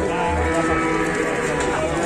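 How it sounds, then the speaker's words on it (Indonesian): Large jumbo cattle moo at the Pasar Penambarawa livestock market, a loud, low lowing that rises over a dense, constant din of crowd and market noise. "Mantap sekali nih sapi-sapinya di Pasar Penambarawa sudah berdatangan yang jumbo-jumbo."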